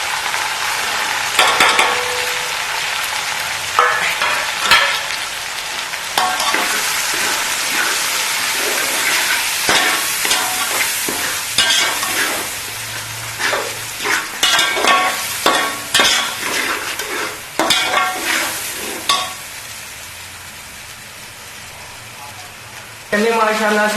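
Ginger-garlic paste, tomato, chili and spices fry in a pan over golden onions for chana pulao, with a loud, steady sizzle and repeated stirring scrapes as someone talks over it.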